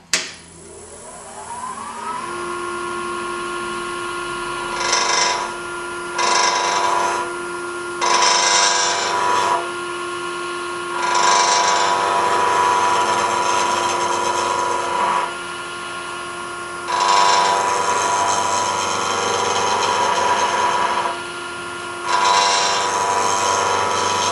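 Wooden door stop turned on a lathe, with a steady motor whine underneath and repeated bursts of gouge and skew cutting that start and stop as the tool meets the spinning wood, loud and close.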